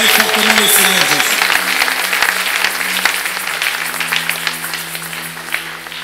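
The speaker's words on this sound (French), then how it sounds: "Si vous croyez dans cette parole, acclamez fortement le Seigneur Jésus." A church congregation claps and cheers loudly for Jesus, with sustained dense applause and voices lasting throughout and tapering slightly toward the end, over a steady low hum.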